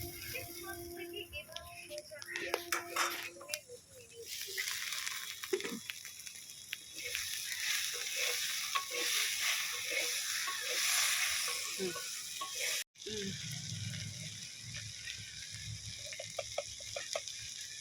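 Chopped tomatoes hit hot oil in a pan with ginger and garlic, setting off a steady frying sizzle that carries on for many seconds, with a brief stir and clink partway through and a softer sizzle after.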